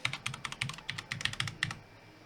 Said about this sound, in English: and then put your password in